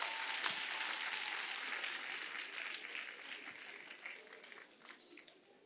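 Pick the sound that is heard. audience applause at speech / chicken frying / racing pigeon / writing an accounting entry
audience applause at speech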